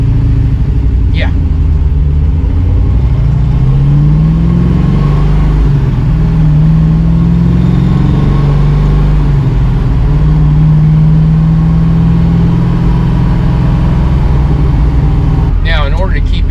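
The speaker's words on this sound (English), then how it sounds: "And they're 3-chamber Flowmasters. Because I didn't want it too loud." Shelby big-block V8 in a pony car, stock cam and 3-chamber Flowmaster exhaust, holding a steady low rumbling idle with slight revs rising and falling, loud and close throughout, with voices talking over it.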